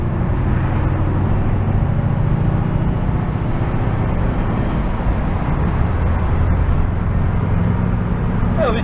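Volkswagen hippie bus engine with a flat spot, run through the gears at full throttle: a steady, loud, low mechanical drone with road and wind roar that persists for the whole stretch, with no talking over it.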